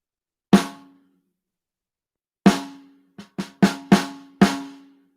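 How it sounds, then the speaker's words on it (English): A snare drum tuned wide open is struck sharply, once alone and then in a quick irregular run of hits, each ringing briefly with a bright buzzy decay. "I used this snare, and I used it wide open"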